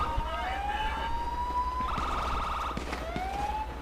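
A police siren in the video game GTA 5 wails in rising and falling sweeps, then switches briefly to a rapid yelp before sweeping again, loud and steady over game noise.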